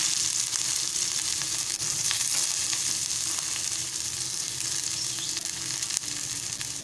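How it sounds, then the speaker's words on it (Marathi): Chopped onion frying in hot oil in a pan for a Marathi drumstick vegetable dish, a steady close sizzle with faint stirring scrapes and no talk. "तेल गरम झालेलं आहे। आता आपण कांदा घालूया।"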